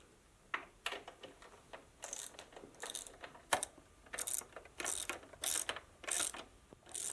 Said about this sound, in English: take the 6mm Allen and remove these two front bolts